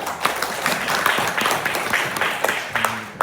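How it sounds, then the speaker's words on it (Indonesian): Short burst of audience clapping at a teachers' training session on supervision, moderately loud with individual claps audible against a murmur of voices. "beri tepuk tangan buat kita semuanya"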